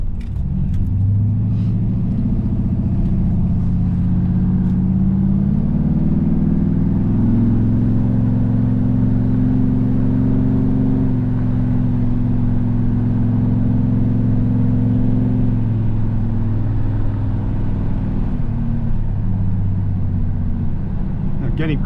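A Pontiac with a muffler problem cruises around the block on a highway, its engine a steady, loud, low drone that rises and eases slightly, while someone talks over it.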